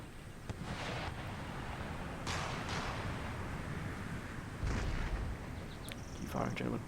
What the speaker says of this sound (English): Keep firing, gentlemen. Keep firing.